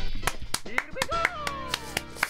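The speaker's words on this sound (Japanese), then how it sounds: "思わず拍手しちゃったよ。" Several sharp hand claps ring out unevenly over a short stretch, mixed with bright Super Mario 64 game sound effects and chimes.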